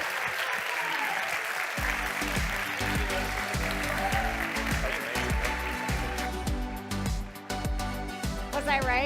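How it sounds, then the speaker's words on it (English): Audience applause at a community food talk, a full, steady burst of clapping that rises quickly and carries on for several seconds, with some voices mixed in. "give this man a round of applause"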